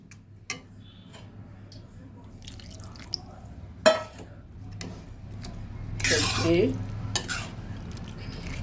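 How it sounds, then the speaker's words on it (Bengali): Vegetables, pumpkin stems and potatoes, being stirred with a little water in a pot: faint sparse scrapes and clinks, with a louder wet rustling stir a little past the middle, against quiet background. "সবজির গায়ে গায়ে জলটা দিলাম, বেশি দেব না। সুন্দর করে নেড়ে চেড়ে ঢেকে দিচ্ছি।"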